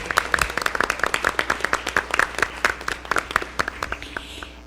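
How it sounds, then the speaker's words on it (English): A small room's worth of people gives a light round of clapping at a school board meeting, individual claps distinct and rhythmic, tapering off toward the end. "I'd like to pause for a little round of applause for our PTO."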